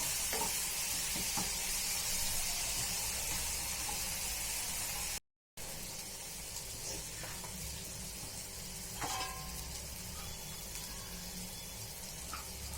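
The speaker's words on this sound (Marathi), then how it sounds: "आता छान तेल सुटेपर्यंत टमाटरला चांगलं फ्राय करूया" Medium tomato paste frying in oil for masala potatoes, a continuous soft sizzle with occasional stirring scrapes, close and steady, briefly cutting out midway.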